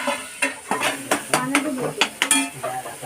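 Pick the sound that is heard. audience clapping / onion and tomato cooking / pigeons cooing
onion and tomato cooking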